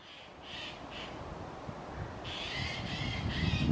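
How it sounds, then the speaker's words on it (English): Harsh, rasping bird calls in short bursts, a few spaced chattering notes followed by a longer run of harsh calls, over soft outdoor background noise. "sounds like a magpie"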